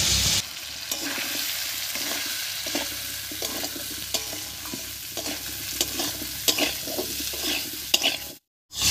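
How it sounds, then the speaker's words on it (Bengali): Potatoes and raw rice sizzle steadily in a hot pan as a spatula stirs and scrapes through them in repeated strokes, close and fairly loud, with no talking over it. "এই অবস্থায় আলুর সঙ্গে চালটাও একটু ভাজা ভাজা করে নেব।"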